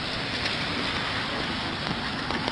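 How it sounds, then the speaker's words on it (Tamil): Heavy rain pours down steadily at a waterfront park in Hoboken, New Jersey, a dense, loud, unbroken hiss of drops hitting the ground with no voices. "ஒரு சூப்பர் மழை பெய்யுது,"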